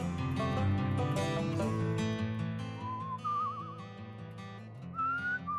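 A character whistles in the video game Where the Water Tastes Like Wine, a wavering tune sounding twice over a steady bed of game music.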